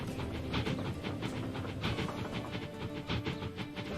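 A train runs in the railway simulation game Transport Fever 2 near Bristol Temple Meads, giving a continuous rumbling clatter with regular rhythmic clicks of wheels, steady and fairly close, with no speech.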